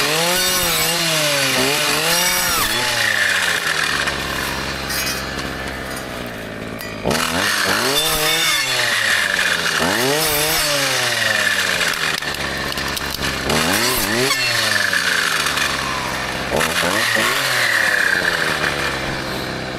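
A brushcutter engine revs hard as it mows down small spruce trees on a farm, loud and close, with repeated rising and falling whines as the blade bites in over about twenty seconds.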